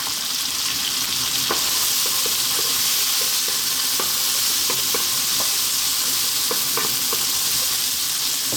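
Crab fried rice sizzles loudly and steadily in a hot pan, with a constant frying hiss and occasional light scraping taps of stirring throughout.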